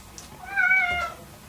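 Joey, a pet cat, lets out a single drawn-out meow that rises and falls, heard faintly from a distance against quiet room hiss.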